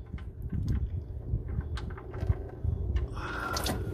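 Used motor oil draining from a diesel engine at about 179 degrees, a steady liquid pour and trickle running throughout with faint mechanical clinks near the end.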